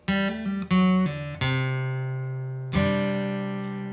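Plucked guitar notes ring out in a short phrase, with quick pull-offs between sustained tones; clear and close with no voices.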